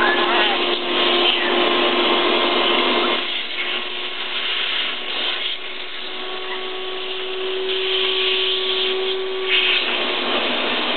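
A vacuum cleaner roars loudly and continuously while it is run over macaws, its motor tone shifting slightly as the nozzle moves.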